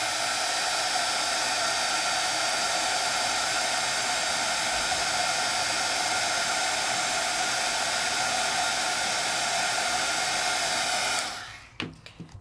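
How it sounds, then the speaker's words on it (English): A heat tool made by the embossing powder company blows hot air to melt embossing powder for card making, giving a loud, steady fan roar that runs unbroken for about eleven seconds before cutting off abruptly. "not from a hair dryer or a paint stripper, but from a heat tool for scrapbooking and card making"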